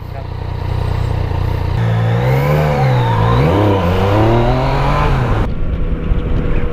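A 2016 Yamaha FJ-09 motorcycle engine revs close by, its pitch sweeping up and down in several smooth rises and falls, loud and continuous, then settling into a rough idle near the end.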